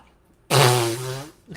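A voice imitates a fart: one loud, buzzing, raspberry-like blast lasting about a second, fading slightly before it stops.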